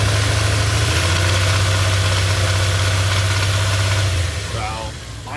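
Old Dodge pickup truck engine idling steadily up close with a low, chattering rumble that runs continuously, then eases off near the end.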